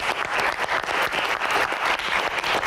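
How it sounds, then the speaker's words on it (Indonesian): Studio audience of university students applauding on a TV talk show set, a dense steady burst of clapping that stays loud and even throughout with no one speaking over it. "Tepuk tangannya mana?"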